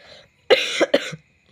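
A person gives a short burst of about three harsh coughs in quick succession, close and fairly loud, followed by a brief silence.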